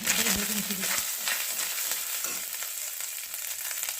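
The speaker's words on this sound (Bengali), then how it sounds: "ভালো করে মিশিয়ে নিচ্ছি" Cauliflower filling with panch phoron, ginger and red chili powder being stirred in a pan for singara, a steady close sizzle with scraping strokes of the spoon near the start, no talk.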